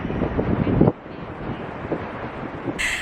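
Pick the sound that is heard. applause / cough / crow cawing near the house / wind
wind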